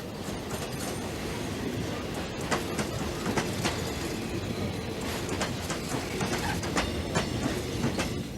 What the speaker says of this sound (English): trains still carry Mozambican workers to and from the gold mines of South Africa